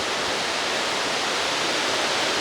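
Majestic falls carrying brown, tannin-stained water in Michigan's Upper Peninsula roar as a dense, steady rush of white noise, loud and unbroken, with no voices over it.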